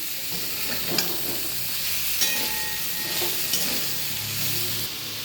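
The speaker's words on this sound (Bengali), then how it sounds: "একটু ভাজা ভাজা হয়ে গেছে, এবার ঝিঙেগুলো দিয়ে দিচ্ছি।" Ridge gourd frying in a pan for a poppy-seed posto dish, a steady close sizzle with intermittent scraping stirs throughout.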